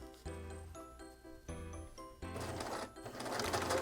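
Sewing machine stitching small fold-over elastic onto a doll diaper, the fabric guided along a universal presser foot; short bursts of close, rapid mechanical stitching start and stop, then settle into a louder, continuous run.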